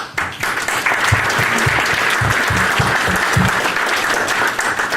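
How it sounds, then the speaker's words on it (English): An audience at a county town hall applauds elected officials, continuous dense clapping heard close and fairly loud for several seconds. "So we need to give all the elected officials a round of applause."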